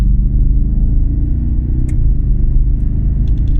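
A 331 kW 2013 Audi RS4 with a seven-speed S-tronic gearbox on the move, its engine a loud, steady deep rumble heard from inside the cabin, with a faint click near the end.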